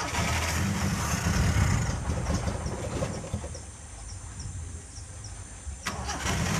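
A Daihatsu Zebra 1.3 with a carburetor fault that stalls at low throttle, starting on the choke: a loud cranking catch settling into an uneven, rough idle close up, with brief talk.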